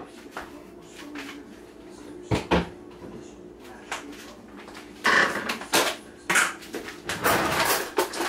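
Kitchen cupboard and dishware clatter while a small bowl is fetched for melting butter during chicken pot pie prep: a run of sharp knocks, taps and ceramic clinks, sparse at first, then quicker and louder near the end.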